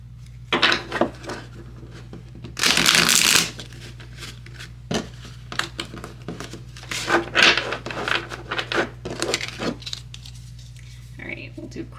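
Tarot cards riffle and slap in several short bursts, the loudest near the start, with soft handling noises and occasional speech between them.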